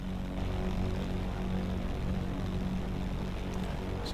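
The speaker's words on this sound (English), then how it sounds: "It's the P-51 I can hear really loud." Steady droning propeller engine of a P-51 in flight in a flight simulator, loud and continuous with a constant throbbing tone and no break.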